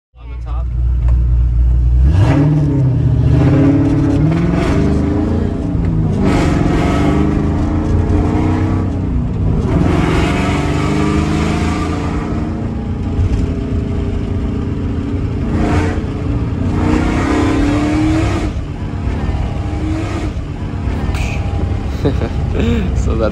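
A cammed 2001 Ford Mustang Bullitt 2V V8 accelerating on the road, loud choppy engine note climbing through several pulls and gear changes, with people talking over it inside the car.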